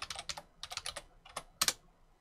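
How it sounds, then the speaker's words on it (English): Light typing on a computer keyboard at a Linux server login, a few quick clusters of key taps followed by one harder keystroke, close and fairly quiet with no talking. "I'm going to log out by typing exit and then log in to the new account."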